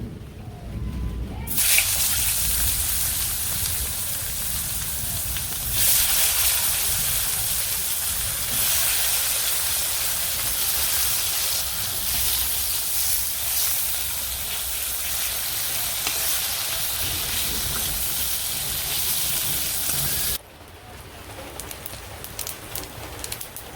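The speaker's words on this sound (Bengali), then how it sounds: "এখন মাছ তেল রয়েছে মাছ ভাজার তেলের মধ্যে এখন বেগুন দিয়ে দিব" Salted eggplant pieces fry in reused fish-frying oil, a loud steady hiss and crackle that starts abruptly and carries on close for about twenty seconds before suddenly dropping to a quieter sizzle.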